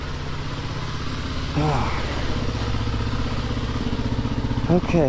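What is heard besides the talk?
dirt bike engine on a muddy trail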